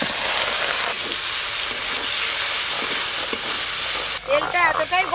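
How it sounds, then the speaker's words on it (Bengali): Prawns dropped into very hot oil fry with a loud, dense sizzle and crackle, close and steady, with a brief clatter and spattering near the end. "এবার চিংড়ি মাছগুলো ভেজে নেব।"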